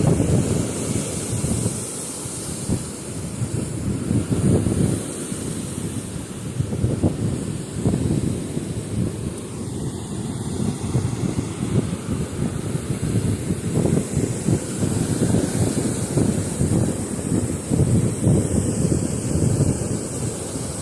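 Steady wind roars across the mic at an autumn fishing spot, a constant low rumble with gusting surges and faint surf-like washing throughout, no voices.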